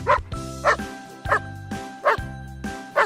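An Akita, a large Japanese breed, barks five times in an even rhythm, each bark loud and close, with short quiet gaps between them.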